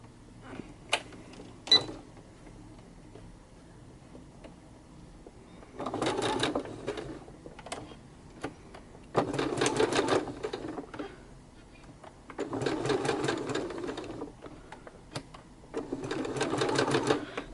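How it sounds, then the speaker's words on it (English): A sewing machine stitches fabric flowers in four short bursts of needle chatter, with separate clicks and pauses between them as the fabric is lifted and turned. "So I'm sewing, turning, sewing a couple stitches, lifting, turning."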